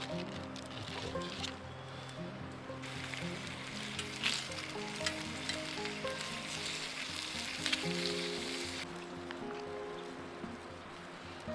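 Bacon and onions sizzling in a pan outdoors, with a continuous crackling fry and brief stirring noises, moderately quiet and steady throughout.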